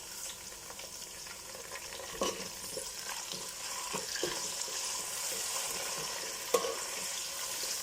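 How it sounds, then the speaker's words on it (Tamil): Mint leaves and onions stir-frying in hot oil give a steady close sizzle, with occasional scrapes and knocks of a spoon stirring the pan and one sharper clack near the end; no voices. "இந்த அனியனு ஆயிலில் புதினாவோடு சேர்த்து வதங்கி வரும்போது நல்லா மர்ஜ் ஆகி நல்லா ஸ்மெல் வரும்"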